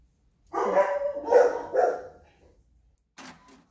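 Dogs barking indoors, three close, loud barks in quick succession, then a quieter short bark after a pause.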